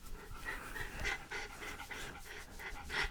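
A dog named Clyde pants quickly and rhythmically close by, soft quick breaths repeating steadily through the few seconds with no talk.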